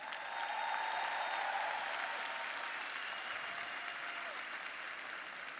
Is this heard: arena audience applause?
yes